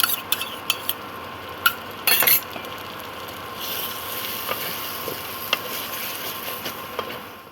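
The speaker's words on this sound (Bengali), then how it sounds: "এবার আমি এই দইটাকে এই পোস্তর মধ্যে আমি মিশিয়ে দিলাম" Sour yogurt being stirred into poppy seed paste for doi posto kudri, with soft scraping and clinks of a spoon against a bowl, a few sharper taps near the start, fairly quiet and steady with no talk.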